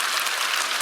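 A church congregation at a Sunday evening service applauds, producing a short burst of dense, steady clapping that fills the room.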